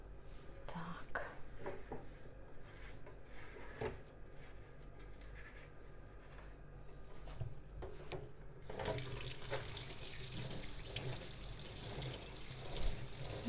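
Running tap water washes an air fryer tray in a kitchen sink, a steady splashing stream that swells to a louder, fuller gush partway through, with a few faint knocks and a brief cough.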